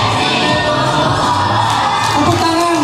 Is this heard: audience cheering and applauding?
yes